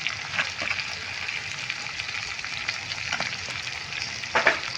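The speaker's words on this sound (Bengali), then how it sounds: "মশলাটা ভালো করে কষাবো।" Spiced masala for a fish curry, with Kashmiri chilli powder and salt, sizzling and frying in a pan, a soft steady crackle with a few sharper spits and stirring sounds, quiet and close.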